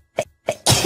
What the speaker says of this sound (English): That's the second sneeze that's got on me today